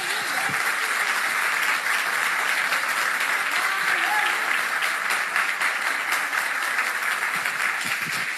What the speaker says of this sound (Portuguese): Você pode se assentar aplaudindo a Jesus bem forte.